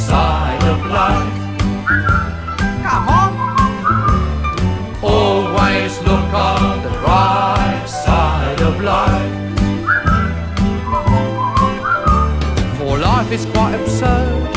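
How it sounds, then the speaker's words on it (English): Someone whistles a cheerful tune over a full band backing of strummed chords and bass, the melody running steadily throughout at a bright, lively pace. "just purse your lips and whistle, that's the thing"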